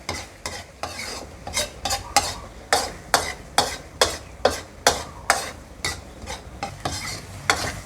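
Eggs and tomato stir-fried in a pan, a sizzle under a quick, regular series of scraping spatula strokes, about two per second, close and alone without talk.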